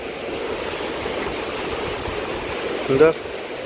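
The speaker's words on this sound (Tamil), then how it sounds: "அவ்வளோ ஸ்பீடாக தண்ணி போயிட்டு இருக்குது" Steady rushing floodwater roars continuously under a broken bridge in Vattuvakal, Mullivaikkal, Sri Lanka, a broad hiss of fast-flowing current, with a brief louder splash or knock near the end.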